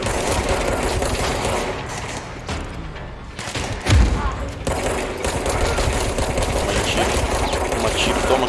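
Rapid bursts of gunfire in the video game Control, a dense continuous fusillade with a short lull and a sharp boom midway, loud and close throughout.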